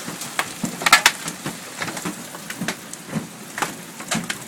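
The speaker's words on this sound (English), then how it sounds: "That's more hail." Hail falls in an Indiana storm, hard irregular clicks and cracks striking surfaces in quick scattered bursts over a steady hiss of rain, fairly close and loud.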